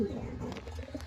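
Racing pigeons in a breeding loft give low, throaty coos, a soft rolling call up close under a faint murmur of background voices.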